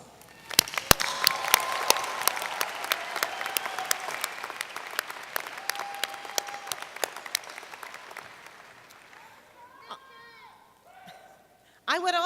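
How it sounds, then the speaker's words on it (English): Commencement crowd of graduates and faculty applauding friends and family, a broad scattered patter of many hands with sharp individual claps standing out, gradually thinning over about ten seconds before a brief burst of other sound at the end. "let's give those friends and family members a wave and a round of applause"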